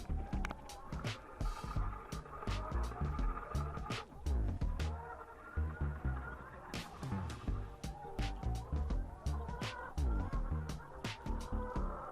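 Many broiler chickens cluck and squawk together in a busy poultry house, with scattered sharp calls and flapping over a constant low hum.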